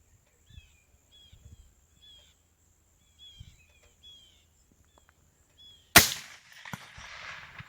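A single loud crack from a 25-45 Sharps rifle fired at a target 800 yards away, near and sharp with a rumbling tail, following a quiet stretch of distant birdsong chirps.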